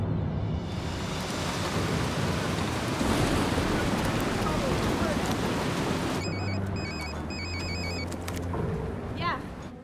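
Storm with gale-force winds in a sci-fi disaster film, a dense, continuous roar of wind and rumbling noise that stays loud throughout, with electronic beeps appearing in the later part.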